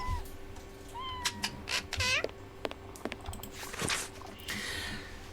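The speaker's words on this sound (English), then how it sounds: "This cat seems to be in a sorry state." A cat in the Sherlock Holmes versus Jack the Ripper video game gives a few short, rising meows close up, mixed with light clicks and rustling game sounds, with no talking.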